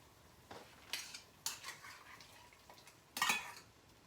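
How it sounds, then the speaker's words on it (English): Chopped carrots dropped into a cooking pot, giving several scattered clatters and a final louder clunk of pieces hitting metal, close and fairly quiet with no talk. "I'm gonna go ahead and put the carrots in here."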